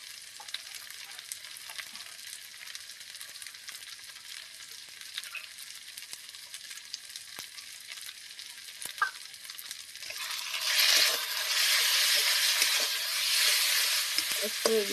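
Spices including chilli and turmeric stirred in a pan for a cauliflower, potato and egg curry: soft scraping stirs and clicks over a quiet sizzle, then a sudden louder hiss and crackle near the end.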